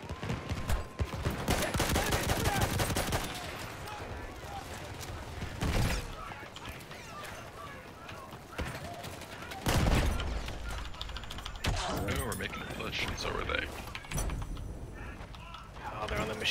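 Bursts of machine gun fire in a World War I shooter set in the Argonne, loud rattling volleys separated by pauses, with shots, clanks and mechanical sounds in between.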